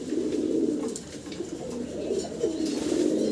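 Fancy pigeons coo steadily and closely in a loft, a continuous low burbling chorus from several birds.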